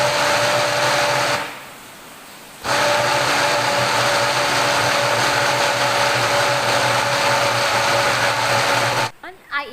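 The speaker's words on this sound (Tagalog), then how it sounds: "Gamit ang power blender, gagawa tayo ng banana puree." A power blender purees steamed bananas with a loud, steady motor whir, pausing briefly once before running on again, then stopping as a voice comes in at the end.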